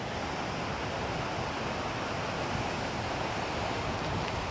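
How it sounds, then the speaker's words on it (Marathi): A powerful monsoon stream rushes at full force, a dense, steady roar of flowing water close by with no letup and no voices. "पाण्याचा फ्लो तुम्हाला दाखवतो मी. एवढा प्रचंड फ्लो आहे."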